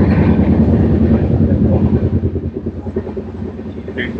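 A passenger train running from Kolkata toward Meghalaya gives a loud, continuous rumble with a faint rhythmic clatter of wheels on the rails, heard from inside the carriage with no talk.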